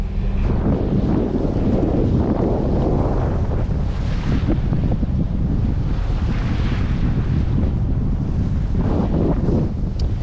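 Strong headwind buffets the microphone at sea along the coast near Adra, Spain, with waves and the wash of a sailing boat roaring beneath it continuously and loudly.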